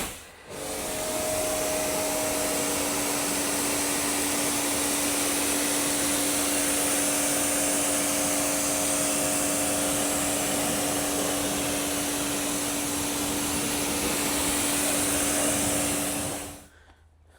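Water from a pressure hose rinses tire cleaner off a tyre on a driveway, producing one loud, steady hiss with an engine drone beneath that runs unbroken for about sixteen seconds before cutting off.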